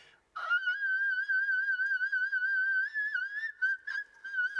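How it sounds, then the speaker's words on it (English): A high, sustained whistle-register tone sung in one long held line with slight wavering and a few brief breaks, clear and fairly loud. "Apart from whistle tones, no, which isn't really a party trick"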